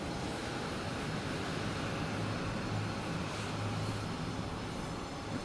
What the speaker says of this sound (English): we have JetBlue taking off, flight 1355, heading to Reagan